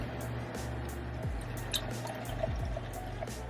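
Simply lemonade poured into a Disney Tervis tumbler, a close, quiet liquid trickle with soft drips and splashes running steadily throughout.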